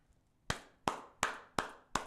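Five sharp hand claps at an even, unhurried pace, each one loud and close with a short tail, during a warm conversation between two people. No voices are heard over the claps.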